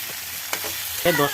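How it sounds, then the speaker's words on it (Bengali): A pickle mixture sautéing in a pan, a loud close sizzle with a brief scrape of a spoon stirring, short and without talk. "এইভাবে কষতে থাকবো"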